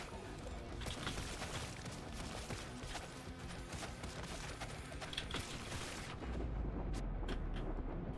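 Bomb explosions in a survival video game, a dense stream of booms and bursts that keeps up the whole time, then a heavier low rumble near the end, heard fairly faintly.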